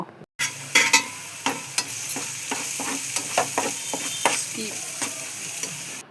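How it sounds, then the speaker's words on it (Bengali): Ground coriander and cumin fry in a pan for a vegetarian paneer dish, a spoon scraping through the mix in a run of distinct strokes over a constant close sizzle, with no one speaking. "মশলা দেব, যেমন ধনে গুঁড়ো, জিরে গুঁড়ো দিয়ে মশলাটা ভালো করে মিশিয়ে নেব"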